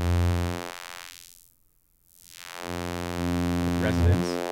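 A System Coupe MCF synth filter in high-pass mode produces a steady buzzing tone that fades out to near silence, then swells back up and ends with a brief squelchy flourish.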